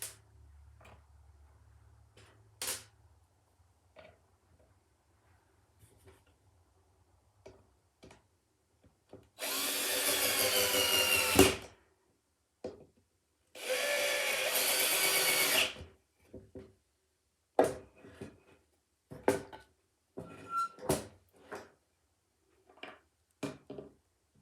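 A power drill drives screws into pre-drilled holes in a basement: two sustained, loud whirring runs of about two seconds each, separated and surrounded by sharp clicks and handling knocks.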